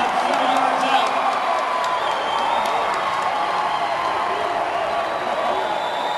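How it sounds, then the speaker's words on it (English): A football crowd and coaches clap and cheer after a touchdown at a Capital versus Lynden 2A semifinal, a steady wash of applause and whoops under a commentator's voice. "we've got the Lynden coaches next to us on their feet clapping about that one"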